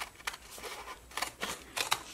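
Scissors cutting large paper stickers in half, a few quiet, crisp snips spaced irregularly, close up with no talk.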